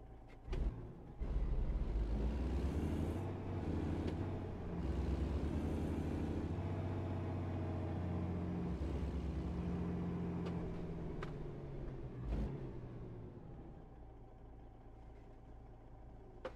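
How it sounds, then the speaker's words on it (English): A car engine in American Truck Simulator running steadily as the vehicle drives off, a continuous mid-pitched hum with gear changes and a couple of sharp clicks, no talking. "Let's get this car going."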